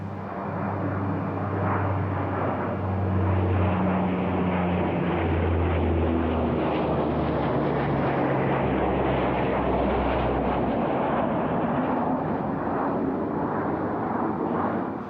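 An Antonov An-22 turboprop transport drones steadily overhead at an airshow, a loud, broad roar with low propeller hum that holds constant throughout.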